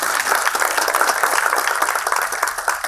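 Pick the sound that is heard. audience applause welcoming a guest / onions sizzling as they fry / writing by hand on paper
audience applause welcoming a guest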